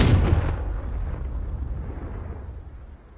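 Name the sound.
Confringo blasting spell explosion in the Hogwarts Legacy video game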